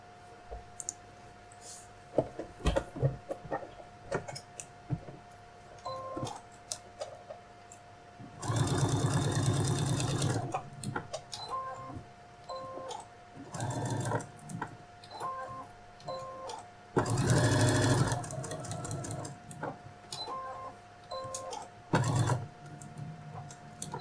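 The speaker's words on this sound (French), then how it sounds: "je positionne mon scratch sur la languette. Je vais l'épingler et faire une couture pour le maintenir, donc tout le tour." A sewing machine stitches hook-and-loop tape around a fabric phone case tab, sounding in two long rapid runs between bursts of clicking and handling noise nearby, with brief softer stitching spurts later.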